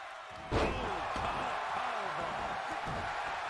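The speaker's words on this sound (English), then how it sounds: "Oh, huge power bomb." Heavy slam impact from a power bomb in the WWE 2K22 wrestling game, one loud thud landing sharply against a steady roar of arena crowd noise.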